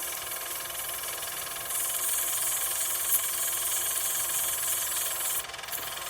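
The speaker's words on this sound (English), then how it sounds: "It's just easier to sand that way. So with the lathe going backwards." A wood lathe running in reverse hums steadily while an acrylic pen blank is sanded with 150-grit paper, a broad hiss rising as the abrasive contacts the spinning blank and fading near the end.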